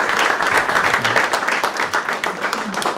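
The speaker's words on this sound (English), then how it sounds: "let's give them all a round of applause for the honor today" An audience at a Saints Hall of Fame ceremony applauds, giving dense, steady clapping from many hands that stays loud and full throughout, with a faint voice briefly underneath.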